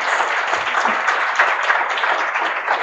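An audience at the Drupal Heart Camp 2017 closing session breaks into brief, dense applause, many hands clapping loudly and evenly throughout.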